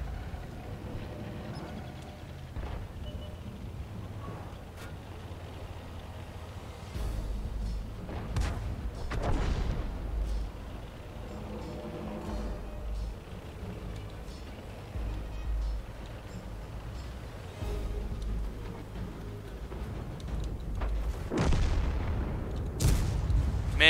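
Tank cannon fire in World of Tanks, a tier 5 tank shooting in a battle: several sharp booming shots at irregular intervals over steady game ambience, with one heavy blast near the end.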